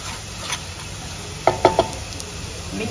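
Chili powder and coriander-cumin powder are stirred in a pan for a fenugreek and gram-flour curry. A soft sizzle runs throughout, and three quick, sharp spoon scrapes land close together midway.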